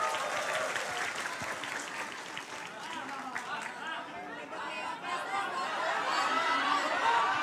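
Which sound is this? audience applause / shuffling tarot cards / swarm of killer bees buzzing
audience applause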